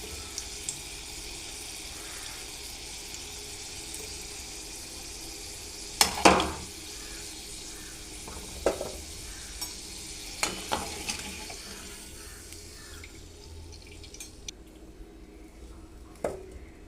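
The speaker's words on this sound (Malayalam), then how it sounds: "ഇത് നമുക്കിതുപോലെ വറുത്ത് കോരിയെടുക്കാം." Gooseberries frying in sesame oil for pickle, a low steady sizzle with scattered scraping and clinking sounds as pieces are stirred and lifted from the pan.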